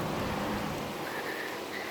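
Rain falls steadily at a campsite in Wales, a faint, even hiss of drops with no voices, brief and distant.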